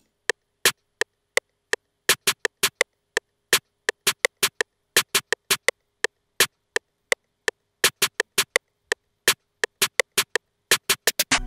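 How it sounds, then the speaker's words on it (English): Snare hits for a dark trap beat snap sharply and alone in an irregular, stuttering pattern of single strikes and quick doubles and triples, dry and close. "Then I added this snare."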